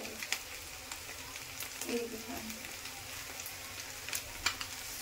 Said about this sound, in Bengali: এবার আমি ম্যাগিটা এর মধ্যে দিয়ে দেবো।